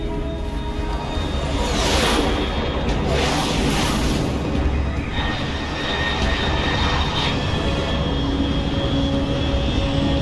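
Fast aircraft passing overhead in the stealth-action game Metal Gear Solid Delta: Snake Eater, a steady loud engine roar and rushing whoosh filling the whole stretch, swelling and fading slightly as it goes by.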